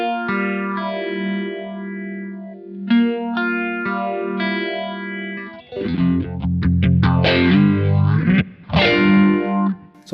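Guitar through an MXR Phase 90 phaser pedal into a Kemper Profiler plays sustained chords with a slow, clearly sweeping phase, then turns to louder, denser strummed and picked passages.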